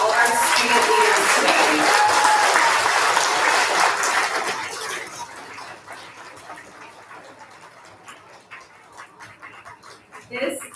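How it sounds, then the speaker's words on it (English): An elementary school audience gives a final round of applause to student leaders at a quarter-end recognition, loud dense clapping that fades over several seconds to scattered sounds. "I would ask that we give a final round of applause to all of our student leaders"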